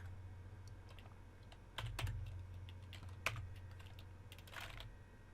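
Someone types on a computer keyboard while writing HTML code, a quiet close series of irregular key clicks with a couple of sharper taps over a low constant hum.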